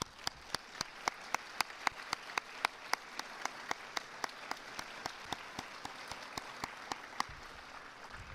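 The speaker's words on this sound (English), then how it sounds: "Let's give them all a big round of applause." Audience applause for officials at a civic leaders' event, a sustained patter of clapping from a crowd heard at a distance and fairly faint.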